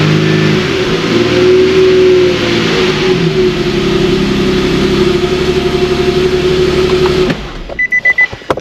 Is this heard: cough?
no